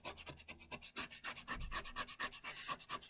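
Sandpaper rubbing rapidly over a surface to remove fluffy bits, a close, rhythmic series of short scratchy strokes, fairly quiet and with no voices.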